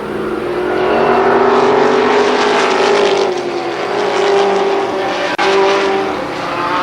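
Super late model stock cars race at Columbus Motor Speedway, a loud continuous roar of engines droning and shifting pitch as the pack sweeps through the turns, with no voices over it.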